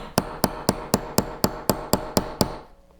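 A small hammer strikes a J.C. Higgins Model 20 rifle bolt ten times in a steady, even rhythm to drive out the firing pin, each blow sharp and close, then stops.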